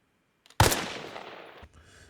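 An SVD sniper rifle fires a single shot with regular ammo in Arma Reforger: one loud crack followed by a long rolling echo that fades over about a second.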